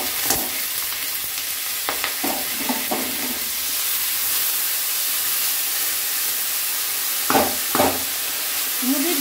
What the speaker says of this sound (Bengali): ঘি দিয়ে ভাজবো বলে আর একবার একটু ভাজছি